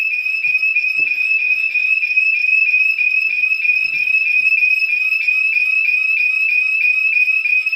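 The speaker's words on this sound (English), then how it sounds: "Now the base station is in the other room, which is over here, and it just went off." A loud electronic alarm from a SimpliSafe security system base station, triggered by the keypad panic button, blares continuously, a shrill high-pitched tone pulsing rapidly and steadily without pause, close by.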